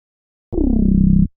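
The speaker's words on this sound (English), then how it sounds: "So the 808s together sound like this." A single deep 808 bass note hits and sustains for under a second, slightly gliding down in pitch, then cuts off abruptly.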